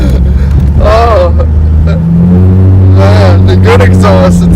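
Jeep fitted with a new aftermarket exhaust revving loudly nearby, engine notes rising and falling under loud talk from several people.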